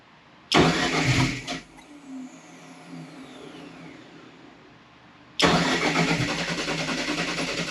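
A DSM drag car fitted with a new turbo and new head cranks and catches in a loud burst, drops back, then fires again into a steady, rough idle close by.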